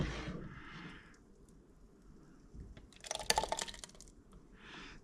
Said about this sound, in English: to pour into the jars.